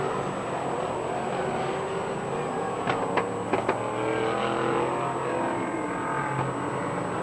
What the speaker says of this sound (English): look at Corey Hayes lift that front wheel down the number 4 car